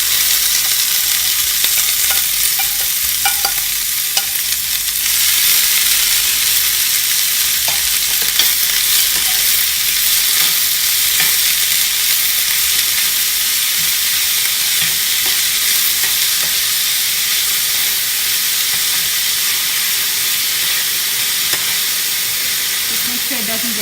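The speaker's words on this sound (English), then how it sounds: "I'm going to add the onions now. I just want to caramelize the onions" Onions frying in a pan as they caramelize, a steady loud sizzle and hiss that runs continuously with occasional stirring scrapes, no voices over it.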